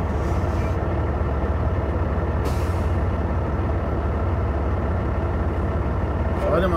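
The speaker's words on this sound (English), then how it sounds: "But there was a semi over there. He's there, right there. He's trying to back in." A semi truck backing in nearby, its engine a steady low rumble throughout with a brief burst of air-brake hiss near the start, set on a trip between Ottumwa and Chariton, Iowa.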